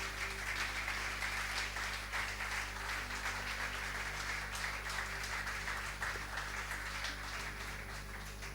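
Church congregation applauding in a sermon hall, a steady even wash of clapping heard at a distance for several seconds over a low hum.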